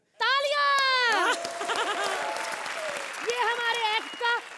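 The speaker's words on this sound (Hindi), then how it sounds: "तालियां!" Studio audience applause at a televised Hindi comedy show, loud and sustained, mixed with overlapping voices and shouts, some high-pitched and bleat-like, with talk continuing through the clapping.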